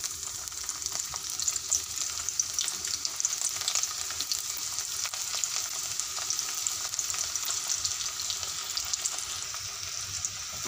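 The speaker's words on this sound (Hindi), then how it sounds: "तेलटी टिके तातुई गले आम से रसुण देदेबा।" Garlic fries in hot oil in a kadai, giving a constant bright sizzle with soft crackles and spits that hold steady and close throughout.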